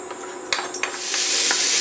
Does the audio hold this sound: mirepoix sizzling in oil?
yes